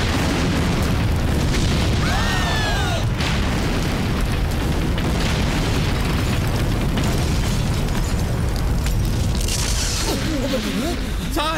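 A bomb blows up a hotel in a comedy movie scene: a loud, sustained rumbling blast fills the stretch from start to end, with screams or shrill voices rising over it.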